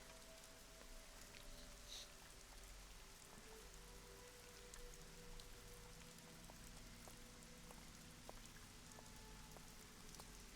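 Steady rain falls in the Nancy Drew video game Legend of the Crystal Skull, a continuous soft patter of drops on surfaces holding at an even, fairly quiet level with a low background hum and no voices.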